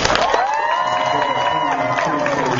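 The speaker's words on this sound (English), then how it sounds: "Give them a big round of applause." Audience at a Youmacon 2009 anime convention closing ceremony applauding and cheering, a dense roar of claps, whoops and shouts from a large crowd, loud and continuous.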